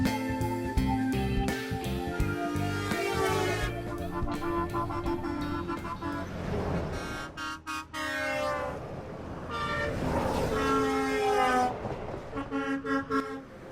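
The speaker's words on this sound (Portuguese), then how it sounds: "O som da buzina é mais agudo quando o veículo se aproxima e fica mais grave quando se afasta" A vehicle horn sounds repeatedly, loud and close, its pitch sliding in a way that suggests a vehicle approaching and then moving away.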